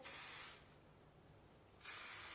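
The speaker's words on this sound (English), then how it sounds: "I usually go with this Bedhead TG Masterpiece hairspray." Bedhead TG Masterpiece hairspray sprays in two loud hissing bursts at the start and end, close to the mic, with a quieter lingering hiss between them.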